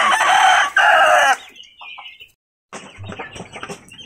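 A rooster crows loudly and close by, followed by quieter clucking and chicken calls after a brief pause.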